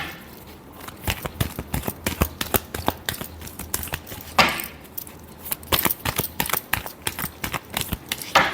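Tarot cards being shuffled by hand: a quick series of crisp, papery flicks and taps in irregular bursts, close and fairly quiet.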